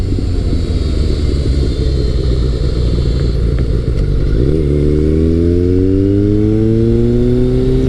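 Kawasaki ZRX1100 motorcycle engine running steadily, then a shift followed by a smooth rising rev as it pulls through the gear, loud and close with wind noise and no talk.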